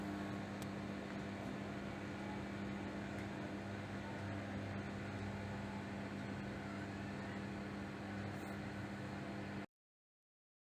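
A microwave oven running with a polarizer standing inside and the rotating glass plate removed, giving a steady, faint mechanical hum with a low drone that cuts off abruptly near the end.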